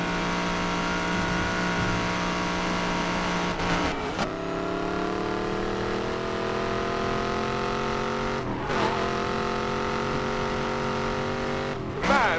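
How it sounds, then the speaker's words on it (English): Koenigsegg supercar from Need for Speed Payback holding a steady, loud engine drone with shifting harmonics, briefly dipping and surging as gears change around four, eight and twelve seconds, no talking over it. "You know when you step on the gas and the engine growls to life for a second?"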